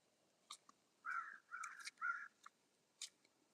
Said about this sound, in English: Those crows are waiting for my demise.